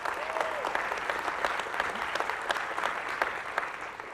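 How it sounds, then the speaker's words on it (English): Audience applause at a college spring convocation, continuous dense clapping from a crowd with individual sharp claps standing out, steady for about four seconds. "Let's give her a round of applause."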